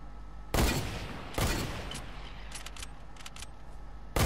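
Gunfire in a first-person shooter video game: three sharp, loud broadband bursts, two close together near the start and one at the end, with faint clicks and shuffling between them and no talk.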